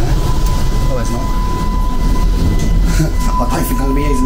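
Steady rumble and rhythmic wheel clatter fill the cabin of a modern passenger train running through Montenegro, loud and continuous with a faint steady tone above it.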